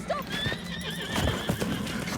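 Horses whinny and neigh over a steady clip-clop of hooves, a busy close-up scene with several animals calling across a dense background.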